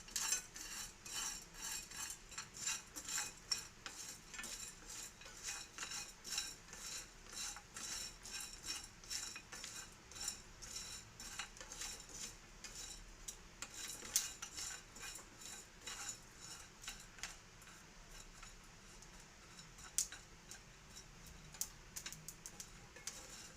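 Cashews, cumin, cloves, cardamom, cinnamon and a biryani flower are dry-roasted and stirred in a pan, with quiet, steady clinks and scraping of the spoon against metal repeating throughout, close but faint.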